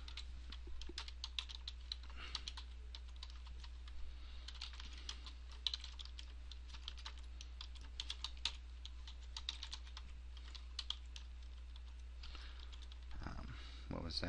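Steady typing on a computer keyboard, with a continuous patter of light key clicks over a low, constant electrical hum. It sounds close but fairly quiet, with a brief louder shuffle near the end.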